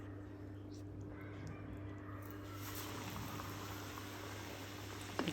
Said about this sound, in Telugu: ఆయిల్ వేడైన తర్వాత ఇప్పుడు మనము బజ్జీలు వేసేసుకోండి